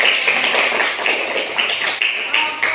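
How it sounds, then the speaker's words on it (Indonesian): Children in a classroom clapping their hands together, a dense burst of many overlapping claps with a loose rhythm, close and loud, with voices mixed in. "Tepuk tangan untuk kita semua."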